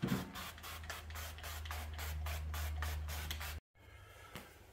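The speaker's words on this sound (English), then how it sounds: "So I'll just get the oil spray and spray it up." Cooking oil is sprayed from a can onto smoker racks before beef jerky goes on, a close, steady hissing spray lasting a few seconds that cuts off abruptly, followed by faint handling noise.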